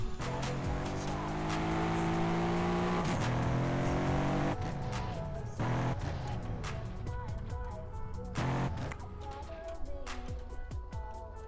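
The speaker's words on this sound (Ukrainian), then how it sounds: "Так, на цій машині достатньо багато їздив." Car engine revving and accelerating in the Ukraine GTA video game, a loud continuous drone with rising pitch sweeps, gear-shift drops and brief tire squeals near the end.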